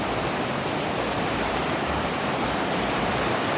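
Steady broadband rush of stream water flowing over rocks at Horse Cove Campground, continuous and even throughout with no voices.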